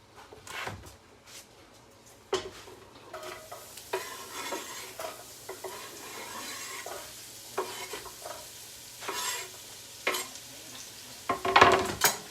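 Onions fry in a hot pot for mulligatawny soup while a utensil stirs and scrapes, producing sharp intermittent knocks and scrapes over a light sizzle, with a cluster of louder clatter near the end.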